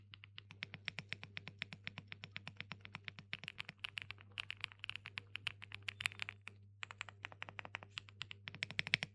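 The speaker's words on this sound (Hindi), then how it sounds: "एक ऐसा कीबोर्ड दोस्तों हाथ लगा है जो कि माशाल्लाह साउंड करता है" Fast, continuous typing on a Galaxy 68 mechanical keyboard, crisp clacky keystrokes in steady bursts with a brief pause midway, close and fairly quiet over a low hum.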